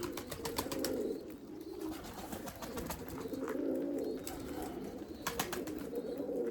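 Erzurum white breeding pigeons coo in soft, repeated low bursts, close by and fairly quiet, with a few faint chirps mixed in and no talking.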